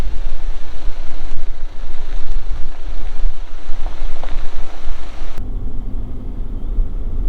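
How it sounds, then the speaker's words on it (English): Water pours steadily over a weir on the Wimmera River at Dimboola, Victoria, carrying a bit of flow, a continuous broad rushing roar with wind buffeting, cutting to a quieter low rumble near the end. "There's the weir holding all the water in. Got a bit of flow at the moment."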